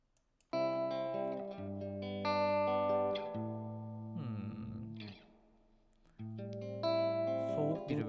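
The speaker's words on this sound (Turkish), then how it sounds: "Reverb atalım arkadaşlar bir tane bakalım." An electric guitar runs through a reverb effect in the Guitar Rig plugin, ringing sustained chords and single notes with a lush tail. A soft, thinner passage comes midway before full chords return loudly, with no talking.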